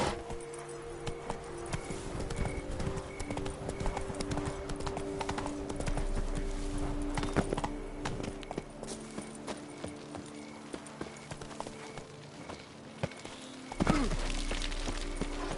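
A horse's hooves clip-clop steadily at a gallop in the Witcher 3 video game, Blood and Wine expansion, a continuous drumming rhythm at moderate loudness with no speech over it.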